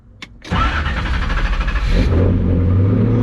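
Turbocharged car engine in neutral, a short blip and then a sharp rev that climbs and holds loud and close, settling into a steady strong rumble, with no talk.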